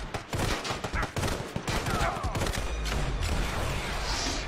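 Sniper Fury game gunfire crackles as a rapid flurry of sharp shots in the opening seconds, then gives way to a dense, steady battle noise.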